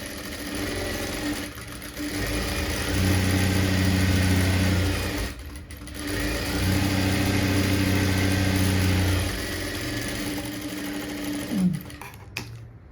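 Sewing machine stitching a blouse sleeve in a tailoring class, a loud, close, steady mechanical whir that runs in two long bursts, with short pauses and faint shuffling between them.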